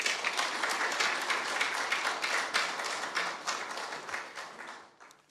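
An audience at a National Assembly symposium on policy functions and new media applauds in a dense, steady round that gradually thins and fades out at the end.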